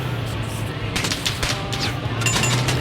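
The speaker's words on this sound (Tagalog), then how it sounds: "Bumabaril ako." Rapid bursts of gunfire in a battle royale video game, clustered shots crackling over a steady background hum, no clear talking.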